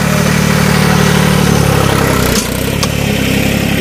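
A New Holland 3630 tractor engine runs steadily close by with a low, throbbing idle-like drone, dipping slightly near the end.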